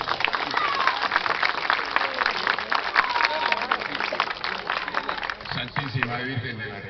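Dense applause from a large crowd at a Catholic street procession for Our Lady of Reconciliation in La Molina, steady and loud throughout, with voices and cheering mixed in and talk emerging near the end.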